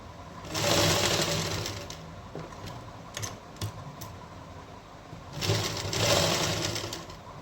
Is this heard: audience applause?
no